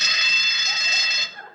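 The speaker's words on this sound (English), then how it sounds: "it's the fire alarm" A fire alarm sound effect in a comedy sketch, a loud electronic ringing tone held steadily for over a second before it cuts off abruptly.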